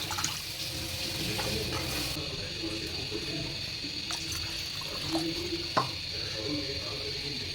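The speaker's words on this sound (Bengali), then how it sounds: "এখন আমরা জল দিয়ে দিব জল দিয়ে দিলাম" Water poured into a pan of cooked-down fish curry masala with tomato, a steady rushing pour with faint sizzling and clinks of the pan, close and continuous.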